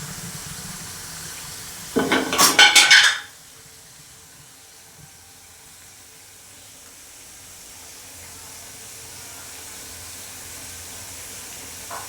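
Leaves dropped into a hot pan to make an herbal anti-dandruff hair oil give a loud, sharp sizzle lasting about a second, then settle into a faint, low frying hiss.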